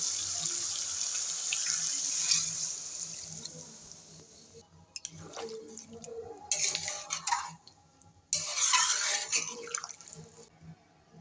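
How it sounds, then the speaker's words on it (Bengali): Water is poured into a pan of browned chicken cooking in milk for curry gravy, a close hissing gush from a tap that runs, pauses and resumes in bursts, mixed with faint clinks of utensils. "আমি এবার ঝোলের জন্য জল দিয়ে দেবো"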